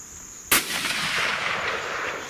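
A single rifle shot cracks out sharply at a long-range shooting challenge, followed by a sustained rolling echo that slowly fades across open ground.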